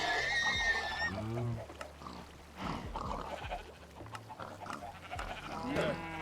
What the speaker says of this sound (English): Turn off horse death sounds.